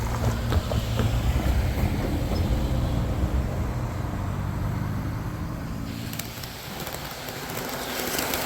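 A freight train rumbles past behind a railway maintenance-of-way crew, a loud, steady low roar with rattling that stays continuous throughout and eases slightly near the end.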